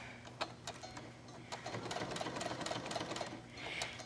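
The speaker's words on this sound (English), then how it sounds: "And all we're doing is just sewing in a little square formation around this piece of hook and loop tape." A sewing machine stitching a small square around a piece of hook and loop tape for cosplay bracers, a close, rapid mechanical ticking and whirring in quick regular bursts with a brief pause.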